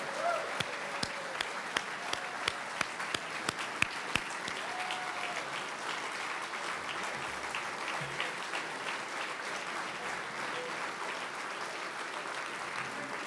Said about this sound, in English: how about one more round of applause for the Army Sports Hall of Fame class